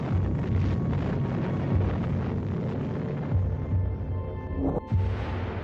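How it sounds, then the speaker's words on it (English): An atomic bomb blast heard as a sustained, heavy roaring rumble with gusting, wind-like turbulence and a brief crackling burst near the end. "The atom bomb is dropped anyway."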